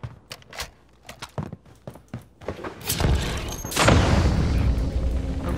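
A bouncing betty mine going off in a video game: a few scattered thumps and clicks, then a loud deep boom that rolls into a long, rumbling blast tail.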